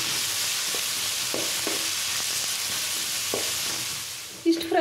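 Onions fry in a pan with a steady, close sizzle, broken by a few soft knocks of stirring and a clink of utensils at the end.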